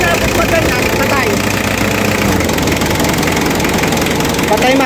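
A car engine runs steadily and revs up while the air-conditioning magnetic clutch fails to engage, with no click heard; a loud, continuous mechanical drone fills the whole stretch.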